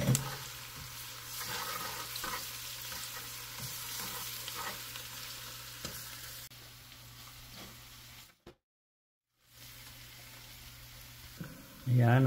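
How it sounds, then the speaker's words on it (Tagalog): Garlic sizzles and fries steadily in hot cooking oil for an afternoon snack, a constant close crackle with occasional stirring, briefly cutting out before resuming and swelling at the end. "Mainit na yung mantika. So yan, nilagay na niya yung bawang."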